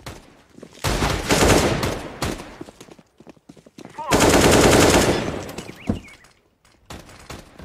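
Gunfire in Counter-Strike: Global Offensive comes in two loud, dense bursts of rapid automatic shots about a second long each, separated by quieter gaps with scattered single shots and game noise.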